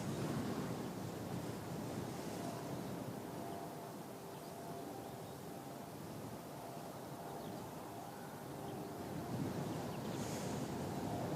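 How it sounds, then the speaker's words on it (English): Steady wind gusting across Christchurch Airport, a continuous broad roar at moderate level that swells and eases slightly, with no voices. "Nice bit of wind blowing through."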